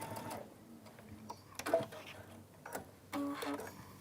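A sewing machine stitches the end of a leather handbag tube in short, uneven runs of mechanical whirring, with faint voices nearby.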